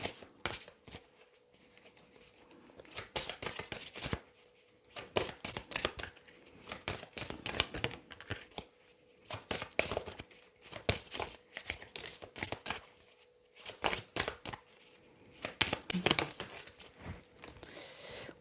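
Tarot-style cards being laid out on a table, with repeated soft slaps, flicks and shuffling rustles arriving in irregular bursts and pauses, close and fairly quiet.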